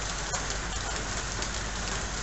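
Steady rain pours down on an overcast day in North Queensland, a dense, even hiss of drops with no breaks, heard alone at moderate level.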